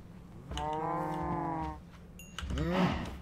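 A cow from a video game moos twice, a long sustained low moo followed by a shorter rising one after a pause, clear and close with no talk over them.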